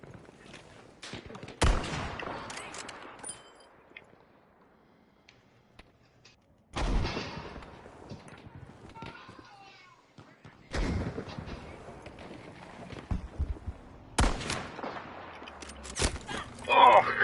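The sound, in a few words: many fireworks going off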